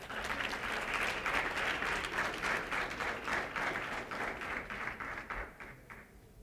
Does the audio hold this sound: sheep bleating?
no